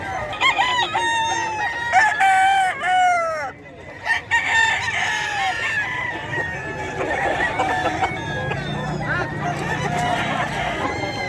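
Roosters crowing repeatedly at the Bocaue pet market in the Philippines, several loud drawn-out calls near and farther off, mixed with clucking, goose-like honks and a faint busy crowd murmur behind them.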